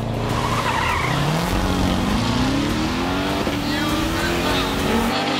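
Drag race cars, among them an AMG E63s, Corvette Z06, Audi S4 and BMW 340i, rev and launch from the stage, engine pitch climbing steadily amid tire noise while a commentator speaks over the roar.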